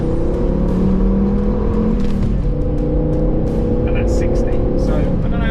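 The engine of a chipped BTCC-style Volvo 850 roars loudly as it revs during a power run with wheel spin, a sustained, rising engine note with tyre and wind noise and someone talking over it.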